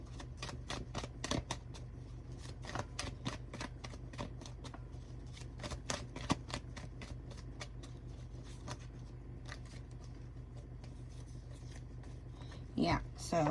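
Playing cards are shuffled and dealt in a quick run of crisp riffles and snaps, close and fairly quiet, with brief pauses between bursts.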